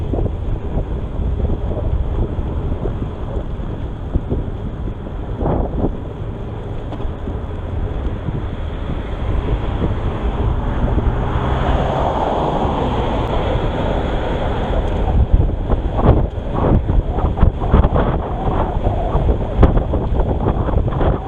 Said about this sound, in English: I just hear the wind in my ears.